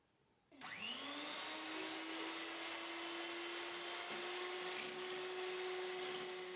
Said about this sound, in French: je vais la verser dans un récipient et la monter au batteur